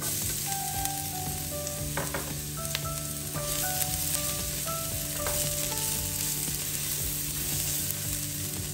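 Ginger and garlic fry in a pan with a steady, close sizzle and crackle, broken by light scraping and stirring sounds, and no one speaks.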